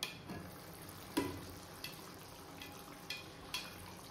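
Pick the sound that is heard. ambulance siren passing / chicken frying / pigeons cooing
chicken frying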